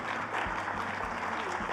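Audience at a ceremony honoring champion choirs applauding, a faint, steady patter of clapping heard from a distance.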